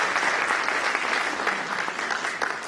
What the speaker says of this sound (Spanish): Vamos a dar un aplauso a la hermana que escuchó.